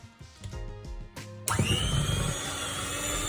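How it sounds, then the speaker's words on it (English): An electric whisk switches on to beat banana cake batter in a bowl, a sudden loud high whirring drone after a few short clunks and taps, steady and close. "So now I'm ready for my electric whisk."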